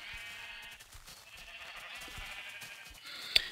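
Sheep bleating in a video game, with a few bleats at moderate level and a brief sharp click near the end, no talk over them.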